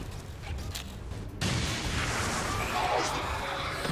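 A Shredstorm Cannon firing in XCOM 2 lets out a sudden loud blast partway through, followed by a sustained roaring rumble of explosions.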